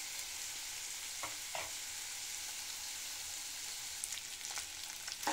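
Cabbage, carrot and capsicum fry lightly in a pan, a soft steady sizzle with occasional stirring scrapes and clinks of the spatula.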